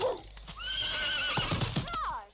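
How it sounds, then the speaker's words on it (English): A horse in a TV episode of the series UFO whinnies in a long, shrill neigh while hooves clip-clop nearby, with a second whinny near the end. "Hopefully that horse is well-trained."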